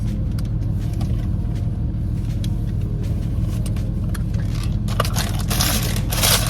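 Steady low rumble inside a moving car, with road and engine noise filling the cabin throughout and light crinkling and tapping on top, no voices.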